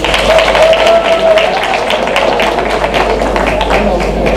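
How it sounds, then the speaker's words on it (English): Audience giving panelists a round of applause at Sasol's Digital Futures technology event, loud steady clapping over a constant low hum, with a voice speaking briefly early on. "Give them a round of applause again, please."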